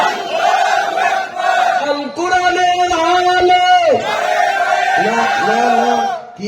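A large crowd at a religious gathering roars back in unison to the takbir call, loud chanted shouts repeated in bursts of strong, sustained voices close up.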